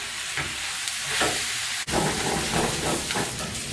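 Pre-cooked noodles are tossed and stirred in sauce in a hot pot for a chicken noodle stir-fry, giving a steady close sizzling hiss with soft stirring scrapes and no talk.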